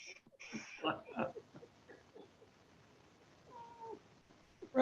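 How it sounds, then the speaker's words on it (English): A large, heavy pet cat meows a few times in a quiet indoor room, with short clear cries that are moderately loud and close by, followed by a louder burst near the end. "That was my big fatty that was just there. My big fat cat."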